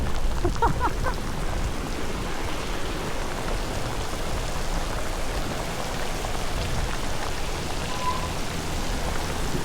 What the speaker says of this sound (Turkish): Tamam yağmur yağar da bu kadar da yağmaz ki ya.